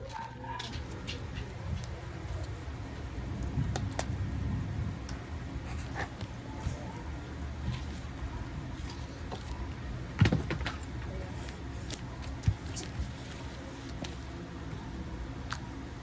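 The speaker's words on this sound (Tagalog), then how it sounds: "Ulan." Steady rain hisses close by as a continuous wash, with scattered sharp drips and taps, a couple of louder knocks, and brief faint voices or animal sounds underneath.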